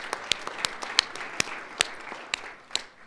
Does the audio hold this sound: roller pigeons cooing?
no